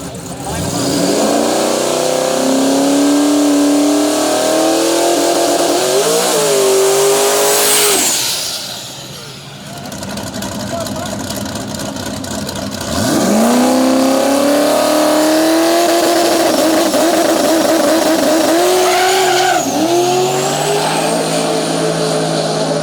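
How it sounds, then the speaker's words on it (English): A twin-turbo LS-powered shop truck makes a drag race run at a Canadian drag event, its engine loud and close as it revs, spools and roars through the gears, then fades briefly before another hard pull, with a voice faintly over the noise. "Shop truck, twin turbo, LS power"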